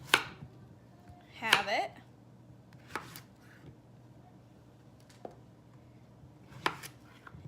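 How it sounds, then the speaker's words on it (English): A knife cutting zucchini on a cutting board gives a handful of sparse, crisp taps spread apart, with a brief voice speaking in between in a quiet kitchen. "we're gonna cut the zucchini and the squash. For the zucchini, I just cut off both ends"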